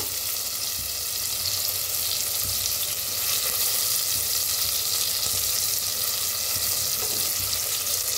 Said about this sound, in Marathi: त्याच्यात टाकूया कांदा